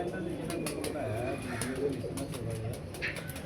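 Pigeons coo in a repeated, soft, throaty rhythm close by, with several overlapping calls and light rustling in the background.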